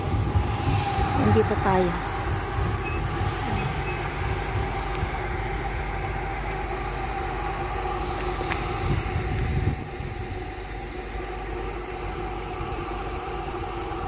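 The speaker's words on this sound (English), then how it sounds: "Ayan, may parating, may papuntang kabila. Ayan siya. 6 carriages po ito, mga kaibigan." A six-carriage train arrives at a station, its steady rumble and rail noise filling the background at moderate loudness while someone talks over it throughout.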